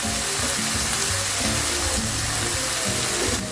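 Browned onion masala sizzling loudly in a hot pan as spices go in, a dense, steady crackle and hiss heard close up with no talk over it.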